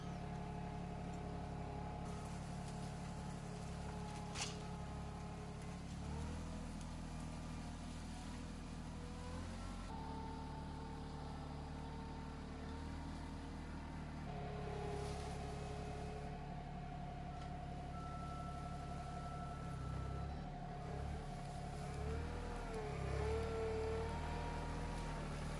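Compact RK24 tractor running a brush hog to clear brush, a steady low engine drone with shifting load and rumble throughout, fairly distant and continuous with no talk.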